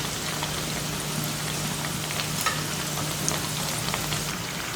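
Masala vadas sizzle and crackle steadily in hot frying oil, a dense, continuous bubbling hiss close up with no voices.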